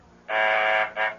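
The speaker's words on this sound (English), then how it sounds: "That's the phone buzzer from downstairs, dear." Downstairs intercom phone buzzer in a radio drama apartment, two harsh electric buzzes close and loud, a long one of about half a second followed by a shorter burst, with no voices over them.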